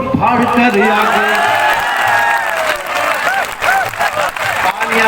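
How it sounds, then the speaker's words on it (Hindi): Audience applause at a Hindi kavi sammelan poetry gathering at a fair, a dense wash of clapping and some cheering from a large crowd, with a voice talking over it. "तालियां जरा कम है"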